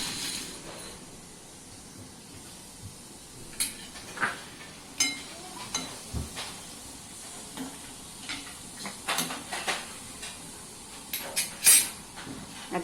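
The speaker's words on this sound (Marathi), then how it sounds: "पाणी उकळल्यानंतर आपण हे वडे त्याच्यात टाकून घेणार आहे" Moong dal vadas drop one after another into a pot of boiling water, making a series of soft irregular splashes and knocks over a low bubbling background.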